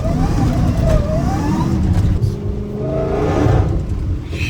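An 850 HP Dodge Hellcat Redeye engine revs and pulls hard on a rainy road, loud rising and falling engine tones up close from inside the car with steady road rumble beneath.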